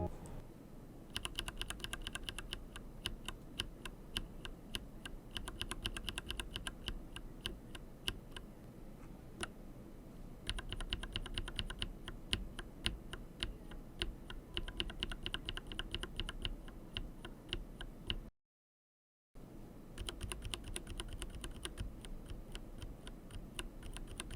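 Typing on a keyboard fitted with unlubed JWK Taro Ball tactile switches, producing close, rapid, steady clacks and ticks in continuous bursts with a brief silent gap near the end.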